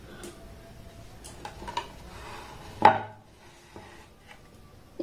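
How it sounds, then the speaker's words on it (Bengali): A knife cuts through rolled flour-and-sugar dough for khaja on a board, giving a few soft, sparse taps and one sharper knock, quiet and close with no speech. "এবার এইভাবে এটাকে আমি কেটে নেব"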